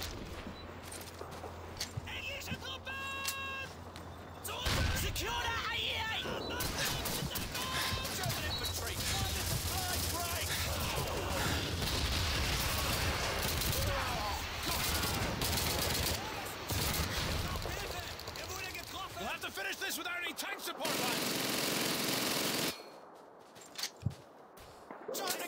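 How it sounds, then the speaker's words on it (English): Gunfire from the World War II shooter Call of Duty 2, played on Veteran difficulty: dense bursts of rifle and machine-gun shots fill most of the stretch, loud and continuous, with a player's voice talking over the battle. "The fuck is shooting at me?"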